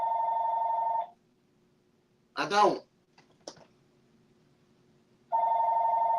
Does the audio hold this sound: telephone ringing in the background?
yes